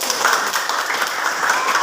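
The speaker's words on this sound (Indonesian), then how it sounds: "Tepuk tangan untuk kelompok 1" Steady classroom applause for a student group, a dense wash of many hands clapping at once, sustained and even throughout with no talking.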